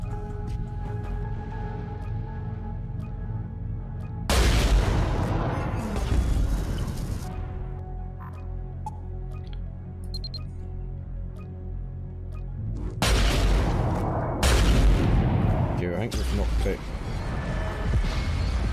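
Weapons fire in the space combat game Trigon: two loud bursts of blasts and crashing impacts, each lasting a couple of seconds, over a steady humming background of game music and ship ambience.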